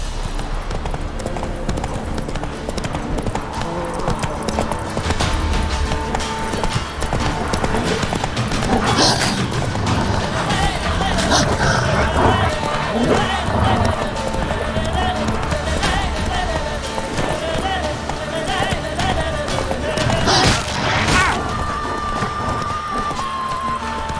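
The horse Roach gallops in The Witcher 3, a steady rhythmic clip-clop of hooves over ambient game sound and music, loud and close, with brief voice moments.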